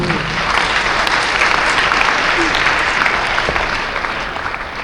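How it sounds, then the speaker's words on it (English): Sustained applause from a crowd at a public address, dense and steady for the whole stretch, easing slightly toward the end. "Clap for them again."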